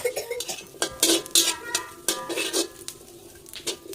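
Shallots and garlic dry-roasted in a pan for Thai chili paste with minced pork, stirred with a utensil that scrapes and clinks against the metal in uneven strokes, close by, with no talking.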